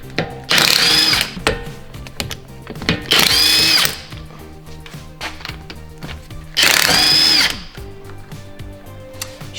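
Power tool, likely an impact wrench, removing the wheel lug nuts on a 10th-generation Honda Civic: three loud whirring bursts of a few seconds each with quieter clanks and handling noise between them.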